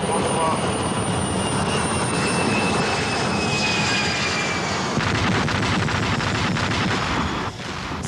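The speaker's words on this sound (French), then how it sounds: "Fais remettre les gaz à l'Airbus." An Airbus jet throttles up its engines for a go-around: a loud, continuous engine roar with whining tones runs through the whole stretch, steady and close, with a brief dip near the end.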